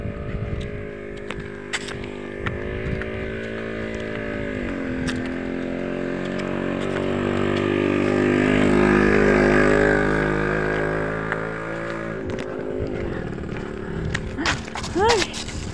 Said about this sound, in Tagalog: Ang hirap umakyat ng motor oh.